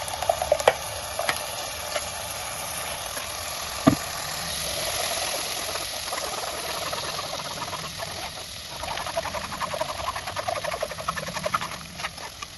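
Ground masala paste for homemade butter chicken masala being strained through a filter, with steady close stirring and scraping of a spoon against the strainer over a continuous hiss and scattered small clicks.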